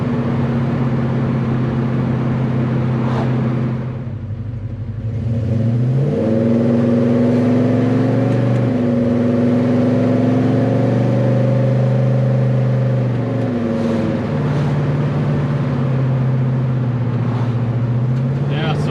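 A 1970 Chevelle with a Holley Double Pumper carburetor cruising at highway speed, a steady loud engine drone that dips briefly, then climbs and shifts pitch as the car accelerates, with someone talking over it.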